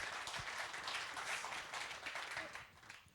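Audience applause at a regional entrepreneur-of-the-year awards ceremony for innovation: dense, steady clapping from a crowd across the whole moment, fading slightly at the end.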